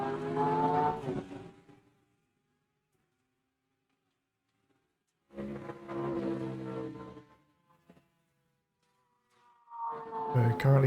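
Porsche race cars in the iRacing sim roar past in bursts, two loud passes of engine noise separated by near silence, then a third rising at the end.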